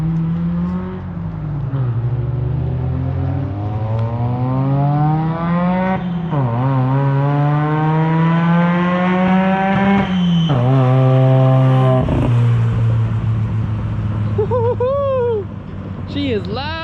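A loud 1983 Mazda RX7 rotary engine revving hard close by, its pitch climbing in repeated sustained sweeps, easing off and rising again, with brief voices near the end.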